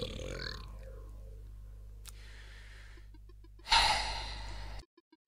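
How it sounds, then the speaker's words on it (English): A well in a video game lets out a burp: a gassy, throaty eruption after a quiet stretch of low hum, loud and brief, followed by faint game blips. "Did the well just burp?"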